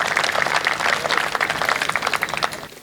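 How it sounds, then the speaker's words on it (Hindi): Audience applause at a Hindi kavi sammelan poetry recital, a dense steady patter of many hands clapping together for nearly three seconds, fairly close and lively, tapering off at the end. "एक बार आप तालियां बजा दीजिए"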